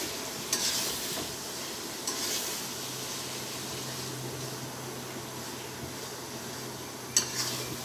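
Mango pickle with vinegar being stirred in a pot, a steady soft scraping and churning with a faint sizzle underneath and a few sharp utensil clinks against the pot.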